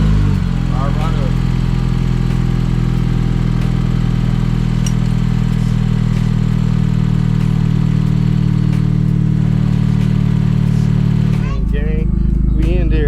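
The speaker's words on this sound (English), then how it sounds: "You can hear that turbo" A freshly rewired Dodge Caliber SRT-4 turbocharged engine idles loudly and close after its first start, a heavy steady drone with faint turbo whistle on top, and people talk over it.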